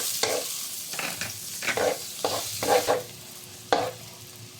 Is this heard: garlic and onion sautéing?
yes